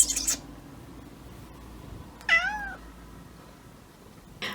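A domestic cat gives a single clear meow indoors, with a couple of brief soft noises at the start and end against quiet room background.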